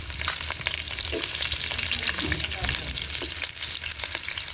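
Green chillies and onions fry in hot oil with a busy, crackling sizzle close by, broken by the scrape and clatter of stirring, and no voices are heard.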